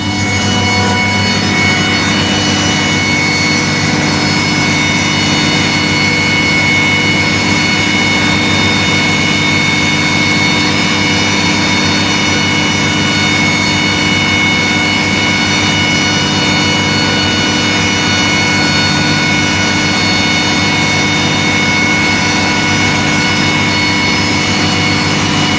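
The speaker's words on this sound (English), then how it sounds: "So the engine is firing up" Aircraft jet engine starting up, heard through an open door: a loud, steady roar with strong sustained whine tones, unbroken throughout with no talk.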